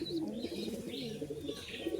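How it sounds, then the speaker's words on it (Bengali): A high-flying pigeon coos repeatedly while held in a person's hand, a soft, continuous, close throaty warble filling the whole stretch. "গাইস, পায়রাটা এত অ্যাক্টিভ, হাতেই ডাকছে"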